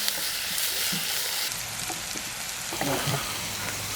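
Chopped onions with garlic and ginger frying in a pan for a chembu (taro) curry, with rock salt added: a steady, close hiss of sizzling oil with a few soft stirring scrapes.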